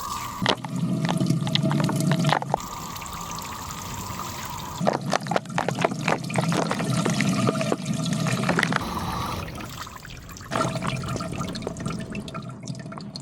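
Water sprays and splashes against the back wall of a terrarium being washed down in a bedroom rainforest setup, a steady close wash with short pauses, a burst of crackly spattering in the middle, and no talking.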